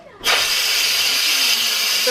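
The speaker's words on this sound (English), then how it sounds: "I'm gonna let all the steam out" A loud, steady rush of hissing steam bursts out abruptly from a pressure cooker's vent and keeps blasting at full strength without pause.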